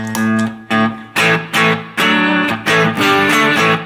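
Electric guitar through a BBE Green Screamer overdrive pedal with the gain set very low: loud, gritty chords struck in a steady rhythm, each ringing briefly before the next, played alone.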